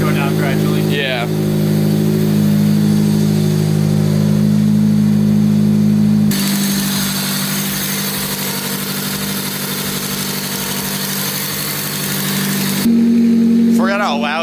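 A loud, steady engine drone with a low exhaust rumble from a Honda car fills the whole stretch, shifting in tone partway through, with a voice talking briefly at the start and end.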